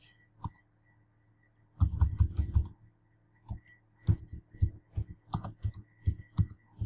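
Someone types a blog post title on a computer keyboard, close up: a quick burst of rapid keystrokes, then slower, evenly spaced clicks with short gaps between them.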